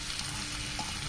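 Chopped onion fries in butter in a pan, giving a soft, steady crackling sizzle that stays faint and continuous with no talking.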